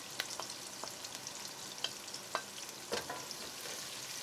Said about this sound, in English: Now it's time to add the ginger and garlic